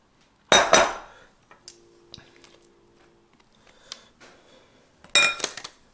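A utensil scrapes and clinks against a mixing bowl while chocolate brownie batter is cleared out, several sharp knocks and scrapes in short bursts with pauses between.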